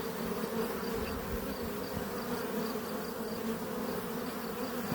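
A honeybee swarm arriving at an apiary bait box gives a steady, dense buzzing drone that holds evenly throughout, moderately loud and close, with no voices.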